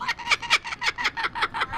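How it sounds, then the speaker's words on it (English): A kookaburra gives its laughing call, a rapid run of about a dozen harsh, cackling hoots in steady rhythm, loud and close with no talk over it. "A kookaburra's call actually sounds a lot like a laugh."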